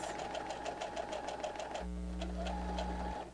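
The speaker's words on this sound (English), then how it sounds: "We're going to head back to the sewing machine and again stitch straight down this line." A sewing machine stitches a straight seam through fabric for a pencil case, a fast, even mechanical chatter heard up close, with a lower motor hum entering partway through.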